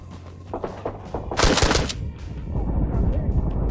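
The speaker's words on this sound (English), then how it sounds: "I got to rock the 308 AK, which I honestly haven't seen in any other server. This thing may be hard to handle, but my god, does it hit hard." Rapid bursts of 308 AK rifle fire in the Arma Reforger video game, a dense rattling fusillade that peaks loudly mid-clip and trails into rumbling echoes and distant shots, with a voice talking faintly beneath.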